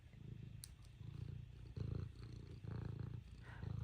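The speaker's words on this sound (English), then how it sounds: "Oh, listen to that purr box." A cat purrs, a low, rumbling purr pulsing steadily in long rhythmic swells, close and continuous, with no voices over it.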